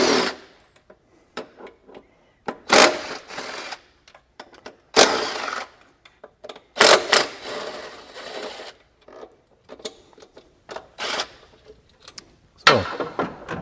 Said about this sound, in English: So I remove the 4 bolts, set my old throttle body aside.